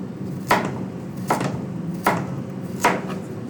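Four evenly spaced, crisp knife strokes through carrots on a cutting board, slicing rounds and half moons, close and fairly loud, with no talking.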